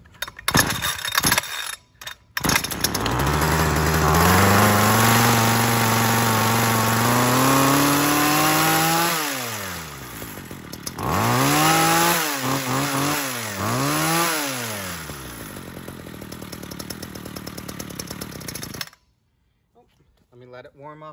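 A Ryobi HT26 two-stroke hedge trimmer with a replacement carburetor sputters on after a few pulls, idles raspily, then revs up and down repeatedly in loud close bursts before cutting out.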